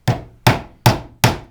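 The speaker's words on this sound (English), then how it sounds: "I'm going to take my hammer" Four sharp, evenly spaced hammer strikes tap 4-penny finish nails into wood for a shelf bracket, each a crisp close knock that rings briefly.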